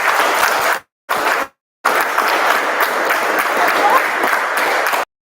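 Loud, dense applause from an audience at a joint Toastmasters club meeting, broken by two short silent gaps before a steady stretch of clapping that stops abruptly.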